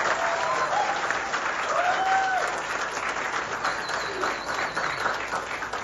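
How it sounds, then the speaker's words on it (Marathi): Applause from an audience at a Marathi public gathering honouring a young man, steady dense clapping from many hands that fills the whole stretch, with a faint voice and a brief tonal sound under the clapping. "प्लीज जोरदार टाळ्या निशांतसाठी, जोरदार टाळ्या"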